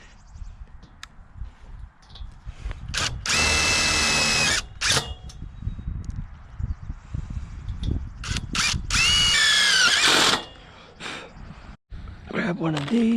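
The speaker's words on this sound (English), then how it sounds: "I want to put 2 screws per joint, but I'm going to keep them going the same in the same side" A power drill drives screws into the joints of a greenhouse frame in several loud, whining bursts, one long run after another. Someone talks between the bursts, and softer clicks and handling noises fill the gaps.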